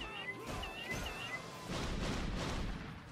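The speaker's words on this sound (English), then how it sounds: "Did you hear those meows?" Cats in the Indivisible video game give several short, high meows in quick succession, followed by a heavy thud and a swelling whoosh of game effects.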